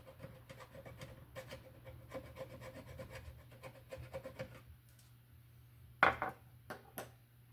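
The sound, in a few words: scraping paint off a light fixture for ground connection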